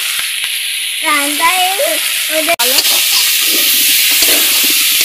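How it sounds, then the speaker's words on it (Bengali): Spices and vegetables fry in a hot pan with a loud, steady sizzling hiss throughout, while a voice speaks briefly over the frying. "ভালো করে ভেজে নেব।"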